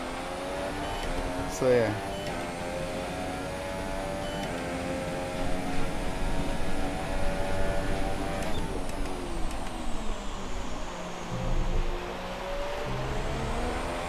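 Haas F1 car engine in the F1 2017 racing game, a steady droning whine with layered harmonics that shift pitch as revs change, moderately loud, with someone talking briefly over it.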